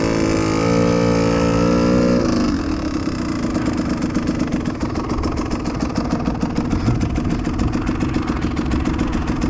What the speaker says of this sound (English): So slowly increase the throttle till it starts to move on its own.